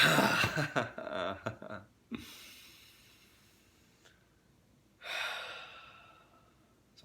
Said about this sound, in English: Squeeze and exhale.